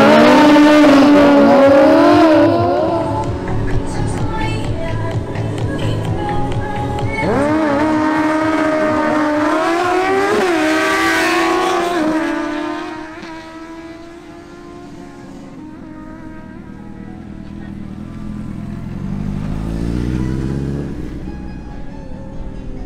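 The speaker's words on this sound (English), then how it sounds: "George Carlini on his Kawasaki Ninja ZX10R doesn't improve his previous record" A Suzuki GSX-S750 and a Kawasaki Ninja ZX10R at a motorcycle drag race, heard as loud, close engines screaming up through the gears with rising and falling revs. They fade into a distant, quieter engine drone.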